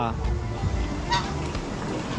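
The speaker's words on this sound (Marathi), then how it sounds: "हे दोन राजहंस आहेत आणि ते बदक आहेत" Loud, close honking calls from swans and ducks at a lake in Mussoorie, a few overlapping nasal blasts over a low outdoor rumble.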